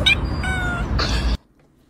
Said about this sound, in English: The cat said hello.